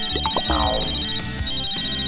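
A mobile phone ringtone plays as a bright, steady electronic tone under chirpy melodic blips, loud and close, with rustling and scattered noises around it.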